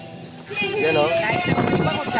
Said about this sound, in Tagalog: Yan ang hangin dito. Sa Nueva Ecija.